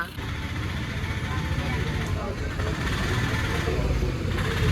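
A vehicle pulls away from a shop's grand opening, its engine note rising as it drives off, steady and fairly loud with voices talking over it the whole time.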